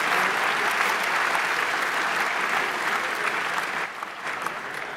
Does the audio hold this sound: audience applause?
yes